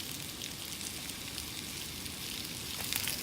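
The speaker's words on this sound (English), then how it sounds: "Late night fry up." Late-night fry-up sizzling in a pan outdoors on a carp fishing trip, a steady crackling hiss that continues evenly throughout with no talking.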